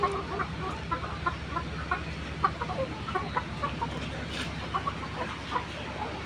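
Layer hens on a poultry farm cluck repeatedly in short irregular bursts, several birds close by over a constant low farm hum, with no voices.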